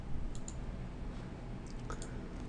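Faint computer mouse clicks, a few sharp isolated taps, over a quiet room hiss with no talking.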